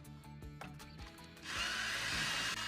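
A power drill backs a screw out of the middle of a wooden stud during a rotten trailer renovation, with short clicky bursts first, then a sustained close whirring run.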